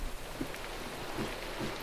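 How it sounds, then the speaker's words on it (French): Rain in the video game Minecraft at night, a steady moderate hiss of falling rain with a few soft scattered thumps and no talk. "Pas beau, j'entends la pluie."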